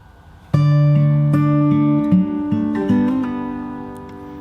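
A bar of a song from Aladdin is picked fingerstyle on acoustic guitar, as single plucked notes and ringing bass tones follow one another slowly and fade at the end, close and without talk.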